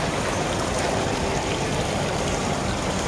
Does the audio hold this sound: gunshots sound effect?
no